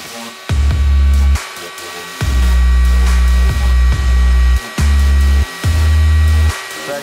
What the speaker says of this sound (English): And shrink it down with the heat guns.